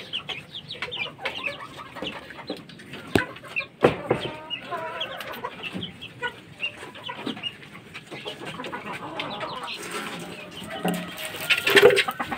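Chickens clucking and cooing around a drinking setup while being given water, a busy mix of close fowl calls with scattered taps and rustles and no talk.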